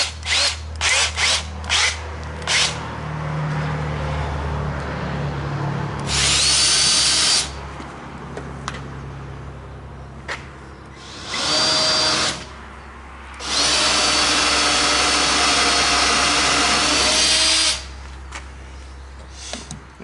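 Power drill boring a smaller hole through the center of a part while repairing the tailgate of a 1997 Jeep Wrangler; several short bursts of loud, close whirring, stopping and restarting, with a longer sustained run near the end.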